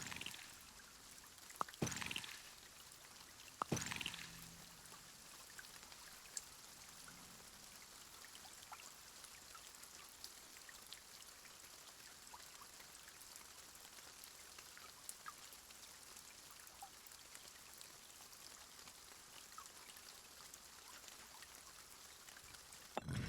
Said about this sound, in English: Just listen to the water.